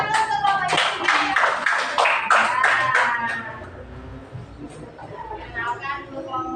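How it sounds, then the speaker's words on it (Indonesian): A classroom of fifth-grade students claps for a group presenting at the front, a dense burst of hand clapping that fades after a few seconds, with children's chatter and voices talking over it. "Tepuk tangan dulu untuk kelompoknya Cynthia."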